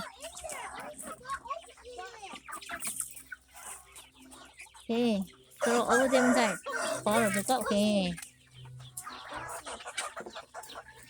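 Roosters cluck and crow nearby on a farm, interspersed with people talking over them in short bursts.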